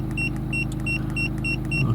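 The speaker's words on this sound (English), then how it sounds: "this one does have a beep, as you may be able to pick up" A CR Plus OBD2 diagnostic scan tool gives a series of short, even electronic beeps, about six in two seconds, repeating steadily over the low rumble of an idling car.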